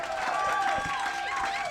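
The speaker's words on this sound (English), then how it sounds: "Big round of applause for Kevin X, our bachelor." Steady crowd applause and cheering at a live Dating Game-style cocktail event welcoming the bachelor, a dense continuous wash of clapping with voices mixed through it.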